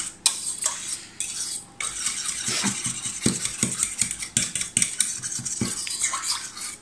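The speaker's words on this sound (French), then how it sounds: "Et je mélange. Je mélange bien." A utensil stirs gelatin into hot cream in a pan or bowl, making a run of irregular scraping clinks against the container at close range, with a low steady hum underneath.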